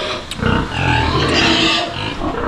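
A small piglet gives several short, close oinks and grunts in quick succession on a small farm, with no other voices around it.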